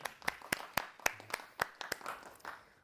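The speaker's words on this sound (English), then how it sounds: "they deserve a round of applause for this." Audience at a blockchain conference talk giving sparse applause, a dozen or so distinct claps spread unevenly over a few seconds, faint and thin as if from a small crowd.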